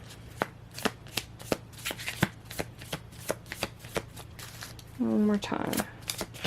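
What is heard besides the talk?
shuffling tarot cards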